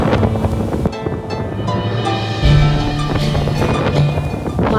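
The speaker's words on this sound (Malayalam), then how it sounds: "തുടർച്ചയായി വീശിക്കൊണ്ടിരിക്കുന്ന തണുത്ത കാറ്റ്, അത് ഈ ചെരുവിലെ പുല്ലിനെയും മരങ്ങളെയും ഒക്കെ ആട്ടി ഉലയ്ക്കുന്നുണ്ട്." Cold rainy-season wind sweeps across a grassy, tree-lined Munnar hillside, a steady loud roar buffeting the microphone with no voices.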